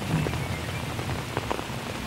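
Heavy rain falls steadily in wet conditions, a dense continuous hiss of drops striking surfaces with scattered louder splashes, close and unbroken throughout.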